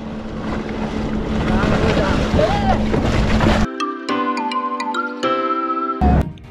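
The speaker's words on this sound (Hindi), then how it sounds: "ये रेस्क्यू बोट आ रही है हमारे लिए पेट्रोल लेकर।" A rescue boat with an engine approaches on Kachura Lake in Skardu, Gilgit Baltistan. Its steady engine drone rises over water and wind for about three and a half seconds, then music takes over.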